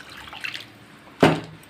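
Water is poured into a pan of simmering Odia-style fish curry, a brief splashing pour that rises sharply after faint earlier kitchen sounds, close and alone without talk.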